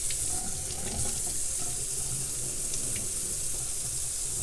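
Tap water runs steadily from a faucet while a grass head is rinsed off, a continuous hissing, splashing stream heard up close and without any talking.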